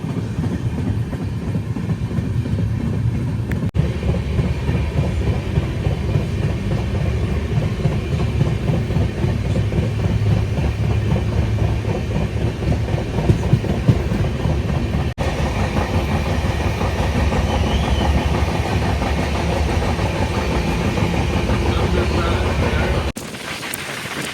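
Onboard the New Delhi to Kalka Shatabdi Express, the train rolls steadily along the rails with a continuous rumble and faint rhythmic clatter, the noise dropping suddenly near the end.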